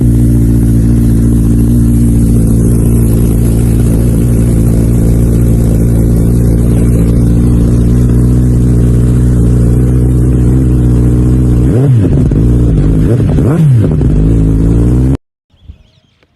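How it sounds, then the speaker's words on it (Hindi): A motorcycle fitted with a Yoshimura exhaust idles loud and close with a deep, steady burble, then near the end blips the throttle through several quick revs before cutting off abruptly. "अब बारी आ जाती है इसमें योशिमुरा के एग्जॉस्ट की"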